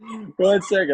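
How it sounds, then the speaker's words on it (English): A pet dog indoors barks three times in quick succession, close and fairly loud, the first bark drawn out and whiny, the next two sharper yips. "Sorry about that. That's my dog."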